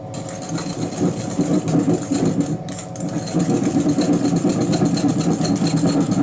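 An electric whisk whirring steadily as it beats a mini roll cake mixture until light and fluffy, a continuous mid-pitched motor drone with a slight shift partway through, close and fairly loud with no talking.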